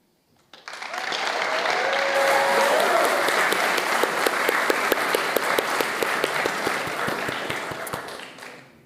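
Applause at a startup showcase at The Piano, a full room clapping together for several seconds, rising quickly and staying dense before fading out.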